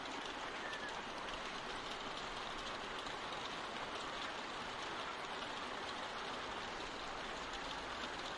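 Steady, dense rain falls outside a barn in Telltale's The Walking Dead video game, a constant even wash of hiss with no breaks, alone and without talk.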